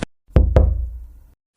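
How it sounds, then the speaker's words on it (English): A single pair of sharp knocks on a door echoing in a concrete tunnel, loud and close, with a reverberant tail fading into silence. "So I knocked."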